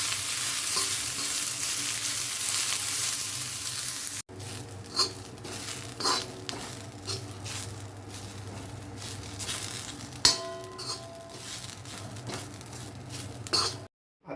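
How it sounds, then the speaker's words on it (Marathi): Onion roasts in hot oil in a pan for a Maharashtrian kat vada usal, a steady sizzle broken by stirring scrapes and clinks, close and moderately loud. "कांदा चांगला लालसर होईपर्यंत भाजून घ्यायचा आहे."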